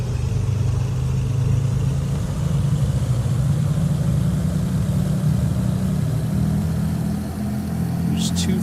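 Twin piston engines of a B58 Baron in the flight sim FSX hold a steady loud run-up drone near 2200 RPM, a continuous low hum with a brief high click near the end.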